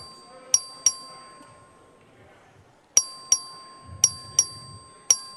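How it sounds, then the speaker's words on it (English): The clerk's voting bell in the Texas House chamber rings in sharp metallic dings, two early, then a run of five spaced strikes, each decaying quickly into a quiet room with faint murmuring. "The clerk will ring the bell."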